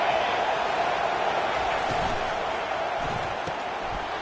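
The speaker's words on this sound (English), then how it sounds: "This crowd trying to make life miserable for this offense." A stadium crowd roars in a football video game, a broad, steady wash of many voices that stays fairly loud and even throughout, with a few dull thumps beneath and no clear commentary on top.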